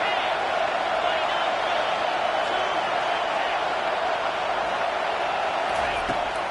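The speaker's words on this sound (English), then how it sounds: "This crowd knows when to bring it." A steady roar from a stadium crowd in an American football video game fills the scene, continuous and loud without breaks, with a faint commentary-like murmur mixed underneath.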